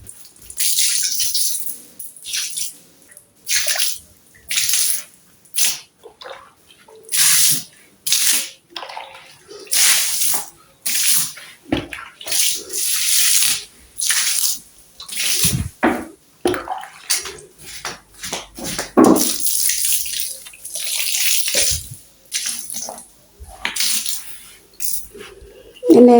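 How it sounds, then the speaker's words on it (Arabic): Carpet scrubbed by hand with a brush and water, giving repeated bursts of wet, hissing scrubbing strokes in an irregular rhythm, close and fairly loud, with short pauses between strokes. "وهو يمسك بقى الفرشة ويغسل لنا السجادة ديت كويس جدا جدا"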